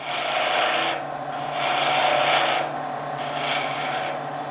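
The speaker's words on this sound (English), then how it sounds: "I've got a spindle gouge which I can use to get most of this timber here" Spindle gouge cutting into timber on a lathe, a steady rasping scrape in three long strokes with short pauses between, close and moderately loud.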